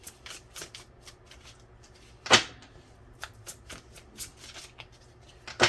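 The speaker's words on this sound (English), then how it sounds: "We'll do a shuffle." Tarot cards being shuffled up close, a series of quick papery riffles and soft slaps with a sharper snap midway and another at the end, fairly quiet with no talking.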